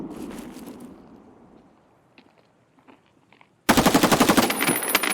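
Gunfire in the video game Raid: a few faint scattered shots and thumps after a fading burst, then a sudden loud, rapid automatic volley of evenly spaced shots close up.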